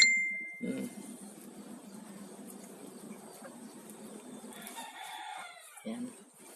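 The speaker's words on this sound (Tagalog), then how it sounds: "Ang kanyang mga tinaling mga tandang." Tied roosters outside Lolo Jules's riverside hut in a rural province give a short crow near the start, then keep up soft clucking and faint calls under light ambient noise, with another brief call at the end.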